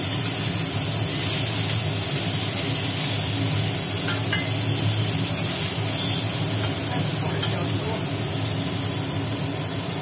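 Bitter gourd, potato, pumpkin and onion frying together in a pan for a Bengali chorchori, giving a continuous close, even sizzle and hiss throughout.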